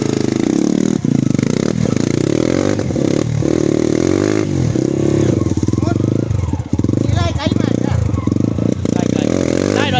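A hard enduro motorcycle engine runs and revs close by on a trail, with a loud continuous drone, rising and falling throttle, and some clattering under a voice.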